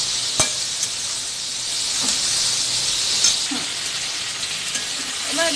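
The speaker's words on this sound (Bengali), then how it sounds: "দিয়ে এবার সবজিটাকে একটু ভেজে নেব।" Vegetables sizzle and hiss steadily in hot oil with turmeric in a pan, a continuous bright frying crackle broken by a few soft clicks of stirring.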